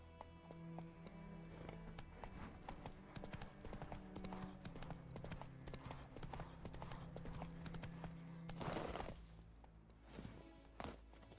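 Horse hooves clip-clop in a brisk, steady rhythm in the video game The Witcher 3, close and continuous, with occasional rustles and a louder burst near the end.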